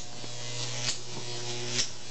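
A Jacob's ladder gives off a steady, low electrical buzz with a constant hum and occasional faint crackles and snaps from the arc, quiet and close.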